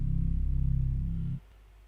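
Dry, unprocessed Bottomless Pit synth bass preset from Analog Lab holds one deep, throbbing low note with a fast pulsing wobble for just over a second, then cuts off, leaving faint hiss.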